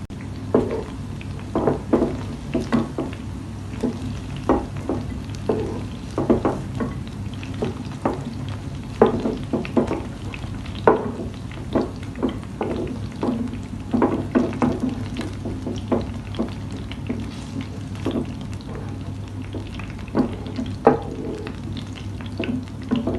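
Paneer frying in oil in a pan sizzles steadily and close, with frequent scraping and clicking from stirring throughout and a low background hum.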